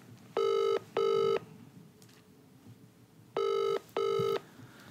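Outgoing call to a piano tuner rings twice in a double-burst pattern, pauses, then rings twice again; a clear, fairly loud electronic ringback tone heard alone with no talking.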